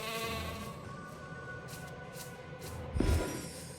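Sheep bleating in the Phobies strategy game, a steady layered bleat running through the whole stretch with a louder bump near the end, no talking over it.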